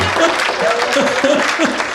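Audience clapping at a Hindi kavi sammelan poetry gathering, a short burst of applause mixed with a performer's voice speaking over it.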